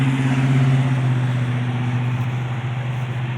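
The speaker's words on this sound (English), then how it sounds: "If you hear a rumbling in the background, that's my neighbor Thomas mowing his yard" A neighbour's lawn mower mowing a yard makes a steady low engine rumble that drones continuously in the background outdoors, with no voices.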